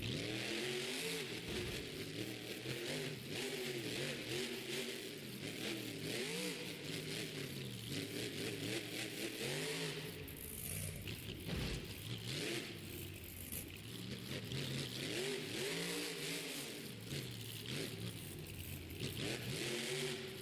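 The Sinistar monster truck's engine revs repeatedly in a Monster Jam arena, rising and falling in surging pulses, heard from a distance over a constant crowd wash.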